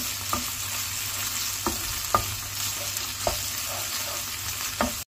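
A pan of tomato juice and pepper paste sautés with a constant low sizzle, broken by several soft scraping knocks of a spoon stirring the mixture, close by and without speech until an abrupt cut at the end.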